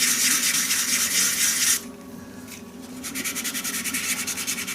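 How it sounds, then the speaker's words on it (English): Hand sanding on a wooden shaving brush turning slowly on a lathe gives a steady, close, hissing rasp of abrasive on wood, which stops briefly and then resumes in a pulsing back-and-forth rhythm. "I'll just hand sand again, and I just hand turn the lathe so that I can get it where I want it to sand"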